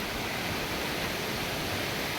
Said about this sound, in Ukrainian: ми дійшли до водоспаду Шипіт